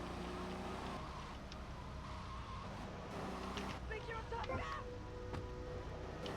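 Car driving in GTA Vice City with a snowstorm mod: a steady engine drone with tire skids and scrapes, heard close and fairly constant throughout.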